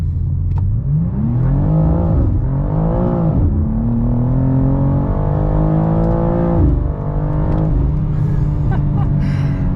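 A 2024 BMW M2 (G87) engine revs hard and climbs through the gears, its loud tone rising and dropping with each shift, heard from inside the car.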